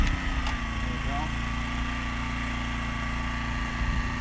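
A Honda EM600 portable generator, restarted after sitting for 15 years, runs at a steady loud idle with a continuous buzzing hum close by, steady from start to finish.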